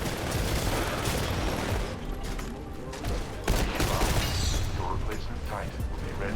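Gunfire from the video game Titanfall, dense rapid automatic bursts with scattered booms and mechanical clicks, sustained and loud, while someone talks over the action.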